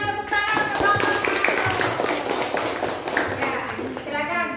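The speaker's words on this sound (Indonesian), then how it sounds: "Kita berikan tepuk tangan ke kelompok 1." A classroom group of students claps and cheers for a presenting group, steady applause mixed with children's voices and chatter throughout.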